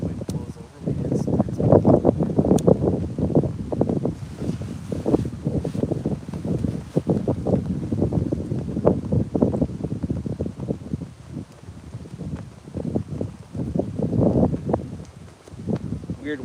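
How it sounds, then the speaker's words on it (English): Wind gusts and buffets the microphone outdoors at Hamilton harbour in Ontario during a night of fishing, a steady rough roar with shifting surges that carries on throughout. "Try and just lay low here so the wind blows over me."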